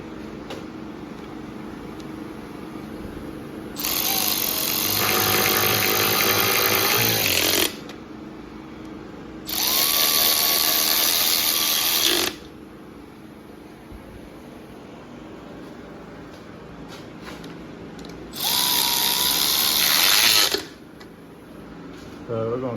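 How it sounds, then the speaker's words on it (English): A power nut setter snugs the oil pan bolts on a 1963 Studebaker Lark. It gives three loud, whining bursts of several seconds each, with shifting pitch, over a steady shop background hum. "I found all the bolts. Go ahead and start the setter. I'm just going to snug it."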